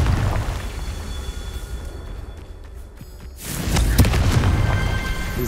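A Confringo blast spell from Hogwarts Legacy erupts in a loud whooshing explosion that swells into a broad roar with crackling bursts, after a quieter rumbling lead-in.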